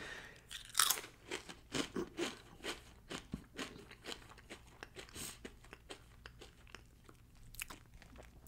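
Blue Heat Takis rolled tortilla chips are bitten and chewed close to the mic, producing a quick irregular run of loud, crisp crunches that soften into quieter chewing.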